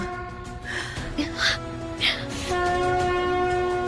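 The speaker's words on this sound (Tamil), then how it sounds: "அதான் சங்கு சத்தம் கேக்குதியா?" A conch shell is blown at a temple during lamp lighting, its droning horn-like tone swelling and holding steady toward the end, mixed with brief voices.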